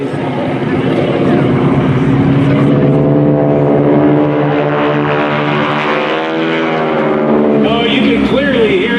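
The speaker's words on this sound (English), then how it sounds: "Oh, you can clearly hear the propellers. It's that deep rumble after the airplane goes by." Propeller warbird airplane at an airshow passing by, a loud continuous deep engine rumble with a steady harmonic drone that shifts in pitch as it goes past.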